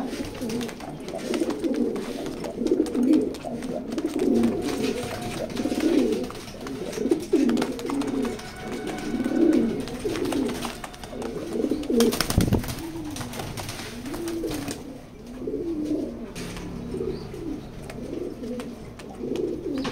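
Racer pigeons coo steadily and close by in repeated soft, throaty phrases, layered over one another with a few brief rustles and no talk.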